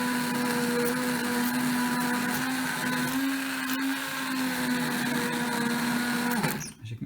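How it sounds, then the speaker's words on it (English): A kitchen blender purees cooked tomato soup, whirring in a loud, steady, high-pitched drone for several seconds before the motor cuts off and spins down abruptly at the end. "All we have to do now is blend it, and this is the noisy part"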